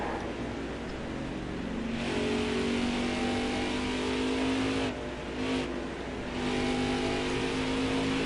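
Racing truck engines in the NASCAR Heat 4 video game on the Phoenix oval, a loud continuous roar that climbs in pitch and holds high revs, with brief dips in level as the trucks lift and pass.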